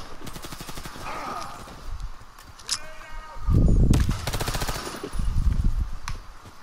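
Rapid bursts of automatic gunfire from a multiplayer shooter video game, dense rattling volleys with heavy low impacts and explosions mixed in, loud and continuous.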